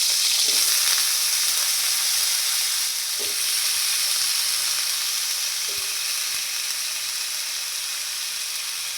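Potatoes frying in a pan for a meat curry, with a loud, steady sizzle filling the whole stretch and a few soft clinks of stirring breaking through at intervals.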